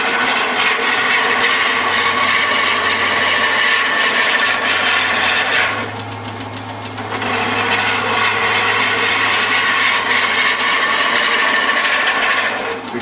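A wood lathe cutting a long thin timber spindle: a loud, continuous rasping shear of the tool against spinning wood over a steady motor hum, easing briefly midway before resuming at full intensity.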